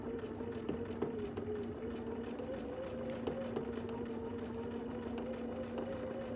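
Sewing machine backstitching a short run while quilting with a seam guide bar, a steady close mechanical hum with faint rhythmic ticking running continuously at low level.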